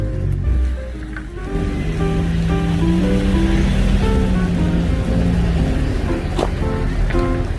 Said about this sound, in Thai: ตรงนี้ก็จะเป็นลำธารนะคะ ลำธารเนี้ยก็คือไหลมาจากน้ำตกสปันนะคะ